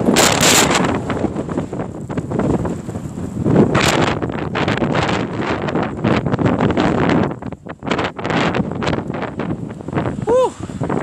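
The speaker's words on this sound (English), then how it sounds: "These are some gale winds right now, gusting." Gale-force gusts roar across the microphone during a brutally cold Arctic blast in New York, loud sustained buffeting that surges and dips over about eleven seconds, with someone talking amid the wind.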